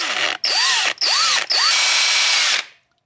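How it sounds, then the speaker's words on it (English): A drill bit bores out a hole in a small plastic part for an Axial SCX24 C10 RC truck light upgrade, three close, loud bursts of whining drilling, each rising in pitch, separated by short pauses, then stopping. "I came up with the idea of having a drill bit and just drilling out the hole"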